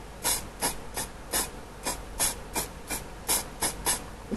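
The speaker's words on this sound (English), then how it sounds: "So I'm just going to lightly spray" Cheap hairspray sprayed lightly over a scratch-built OO9 model engine shed gives about a dozen short, sharp hissing bursts in a steady rhythm, close and clear with no talking.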